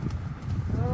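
A horse's hooves clip-clop in a steady rhythm at a horse show, heard briefly beneath an announcer's voice.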